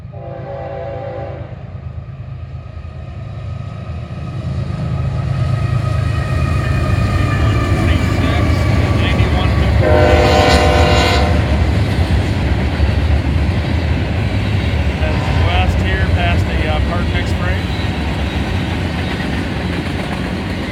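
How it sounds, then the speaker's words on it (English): Westbound Norfolk Southern freight train with gondolas and covered hoppers passing beneath a flyover at Oak Harbor, a loud steady rumble of rolling cars building and holding, with a horn sounding in the middle and some talk near the start. "Here at Oak Harbor, we got a westbound NS. Be coming underneath the flyover here in a minute"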